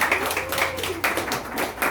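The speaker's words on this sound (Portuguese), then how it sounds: "uma salva de palmas para vocês" A church congregation at a Catholic novena gives a short burst of lively applause, dense hand claps close by and fairly loud, running the whole moment without talk.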